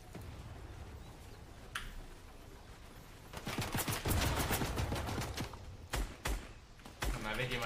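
Bursts of rapid video game gunfire crackle in quick volleys, loud and close, interspersed with quieter stretches.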